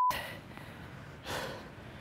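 A tennis player breathes heavily at a match, with two close, breathy inhalation or exhalation gusts sounding alone.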